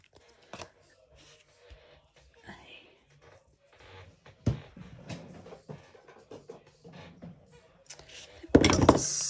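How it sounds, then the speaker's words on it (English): A handheld slot punch cuts through paper while collage tags are made: scattered light clicks and taps, then a sharp, loud crunching punch near the end, with quiet background sounds throughout. "Slot punch."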